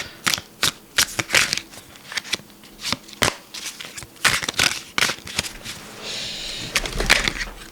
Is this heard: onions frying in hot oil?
no